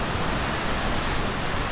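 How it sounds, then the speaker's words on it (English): Ocean waves break close by against the rocks at Barber's Point beach on Hawaii, a dense, steady roar of surf and spray with no voices. "that's the waves. That's how close to the rocks we are"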